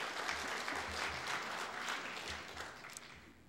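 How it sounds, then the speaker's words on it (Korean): A church congregation applauding its worship team, steady moderate clapping from a seated crowd lasting a few seconds with a faint low hum beneath. "찬양팀 한번 박수 해주세요"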